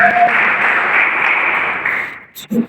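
A church congregation at a family worship service claps together in a dense, loud burst of applause that fades out after about two seconds, with a few voices following.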